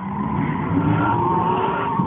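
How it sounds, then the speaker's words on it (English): Cars spin donuts on the I-25 interstate, a steady, loud roar of skidding tires and revving engines holding close and continuous without a break. "several cars stopped traffic on I-25 to do donuts and several other tricks"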